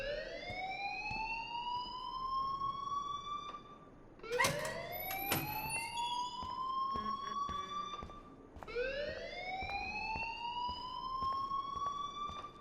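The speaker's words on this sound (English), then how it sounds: "please turn off that alarm since that's your job" An alarm wails in the video game Life Is Strange, a loud rising siren-like tone that sweeps up in repeated cycles, briefly interrupted by clattering game sounds midway, with no speech.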